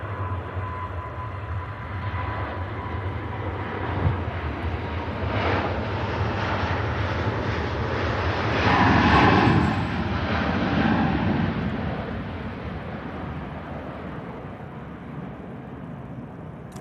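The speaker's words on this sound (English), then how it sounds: "Off goes to Singapore Airlines, Airbus A350-900 series." A Singapore Airlines Airbus A350-900 taking off at Manchester Airport, a broad distant jet roar that builds to a peak midway and then slowly fades as the aircraft climbs away.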